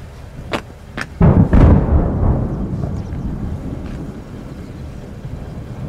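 Explosive demolition of the EMAD and TCC water towers: a couple of sharp cracking detonations, then a big booming blast that rolls into a long, fading rumble heard from a distance in the open air.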